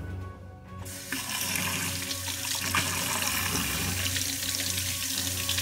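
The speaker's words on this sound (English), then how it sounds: "First, we'll go wet our hands." Water from a tap runs steadily into a sink to wet hands, a close, continuous splashing rush that starts after a brief quiet moment.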